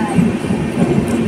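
Train passing through a station in Mumbai, a loud, steady rumble of rolling carriages with continuous low wheel and rail noise close by.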